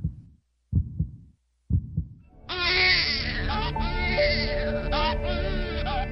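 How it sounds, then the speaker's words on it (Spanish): A newborn baby cries, loud and sustained, after a few deep heartbeat-like thumps at the start; the wailing rises and wavers without a break. "El primer llanto de un recién nacido es un reflejo para despejar sus vías respiratorias y respirar."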